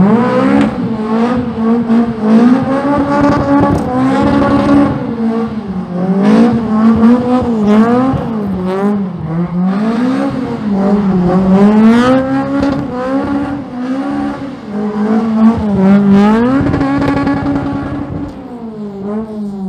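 A Toyota Corolla KE70 with a swapped engine on dual individual throttle bodies revs up and down repeatedly, a deep, loud, close rasping engine note rising and falling in long sweeps, heard alone.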